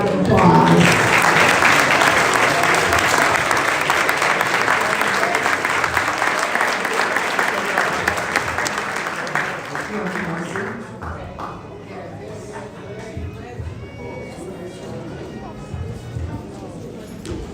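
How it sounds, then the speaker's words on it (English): Audience applause at a Howard University College of Dentistry opening ceremony in 2023: loud, dense clapping from a large crowd that fades gradually to a softer patter after about ten seconds. "Let's give everybody a round of applause."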